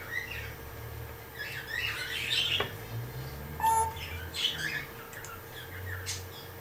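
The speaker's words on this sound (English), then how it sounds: "the parrot is starting to try and destroy the computer and the printer" A pet parrot squawks and chirps indoors in several short harsh bursts over a low background hum, moderately close and without talk.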